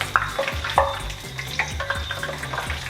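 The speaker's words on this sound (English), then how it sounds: "So we're frying these sweet potatoes." Sweet potatoes sizzling and crackling in hot oil, a steady fry punctuated by scraping stirs and clinks of a utensil in the pan.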